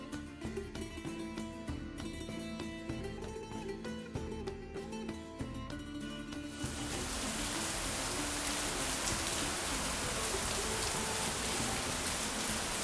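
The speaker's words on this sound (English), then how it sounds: "As soon as I reached the place, it started to rain cats and dogs." Heavy rain falls on surfaces in a middle-class residential commune, a dense continuous roar of drops that swells suddenly partway through and stays loud, with no talking.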